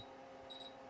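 A short, thin high-pitched electronic beep sounds about halfway through, faint over a steady low background hum.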